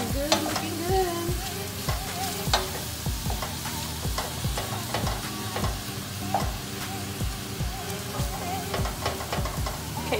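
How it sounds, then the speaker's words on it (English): Shrimp frying in a hot pan for poblano shrimp pasta, a steady loud sizzle running throughout with repeated clatters and scrapes as the pieces are tossed and stirred, no talking over it. "I'm gonna go ahead and toss my shrimp"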